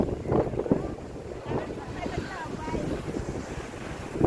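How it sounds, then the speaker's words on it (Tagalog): Strong wind buffets the microphone in a steady roar, with surf and water sounds mixed underneath and brief voices in the background, at a seaside spot. "Lakas ng hangin, guys."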